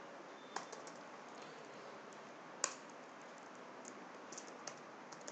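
Quiet computer keyboard typing while writing code, with soft, irregular key clicks and a few sharper taps over a low steady background.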